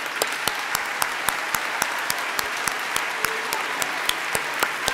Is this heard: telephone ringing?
no